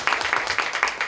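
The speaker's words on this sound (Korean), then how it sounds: "큰 박수로 환영해 주시기 바랍니다." Brief clapping from an assembled party conference audience welcoming newly introduced committee chairs, a quick run of fairly loud, even claps over about a second.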